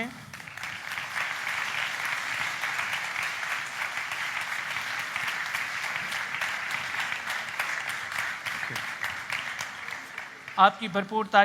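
Audience applause at an award ceremony celebrating Pakistani women, sustained steady clapping throughout, with a voice speaking over it briefly at the very end.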